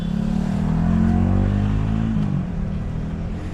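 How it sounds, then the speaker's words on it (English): Street traffic passes close by during a street crossing, with a vehicle engine droning loudly and rising in pitch before it falls away after about two seconds, leaving a lower rumble. "The traffic is trafficking."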